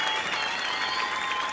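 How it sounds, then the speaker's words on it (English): A short burst of steady applause from an audience, a continuous crackle of many hands clapping at once with no speech over it. "Let's have some applause."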